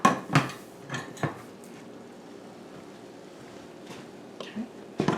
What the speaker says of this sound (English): I have my colander or strainer, whatever you want to call it, and I have a bowl.